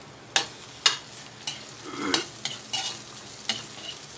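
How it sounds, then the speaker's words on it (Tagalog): Garlic browning in a hot pan, with quick sizzling bursts and sharp scraping stirs at a steady, irregular rhythm, close and fairly quiet with no talking. "Medyo papulahin ko muna ang bawang bago ang sibuyas."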